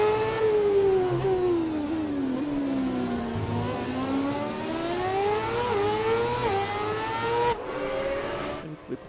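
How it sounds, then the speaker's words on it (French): A hybrid V8 Formula 1 car engine in the video game F1 2017, heard from an onboard camera. It screams at high revs as the pitch dips and climbs through the gears, loud and steady. "Vous pouvez profiter de ces moteurs V8 hybrides dont c'est la première saison"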